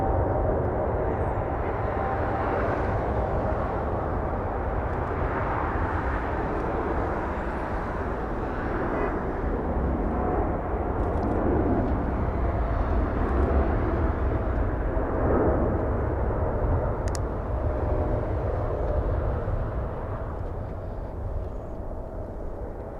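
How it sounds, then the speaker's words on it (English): An Air Tahiti Nui Dreamliner bound for Paris departs Los Angeles International Airport, its engines producing a continuous, heavy, loud roar that holds steady throughout with a slight swell near the middle. "It's Air Tahiti Nui Dreamliner flying to Paris"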